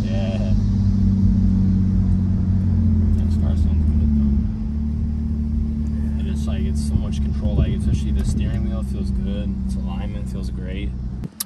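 A Lexus IS250 sedan from the 2005–2013 generation drives on a test drive, a steady low engine and road rumble filling the cabin while people talk over it.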